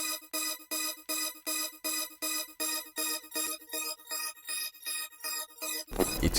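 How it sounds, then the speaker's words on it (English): A synthesizer pad pulses in a steady repeating pattern of short chords, with a sweeping, shifting tone, ending in a brief burst of noise. "I'm taking this pad right here, and I'm making this really repetitive pattern"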